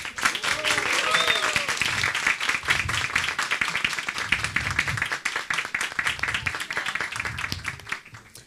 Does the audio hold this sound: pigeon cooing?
no